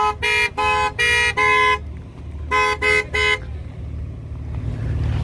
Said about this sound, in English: Everyone started honking just because we're on video right now.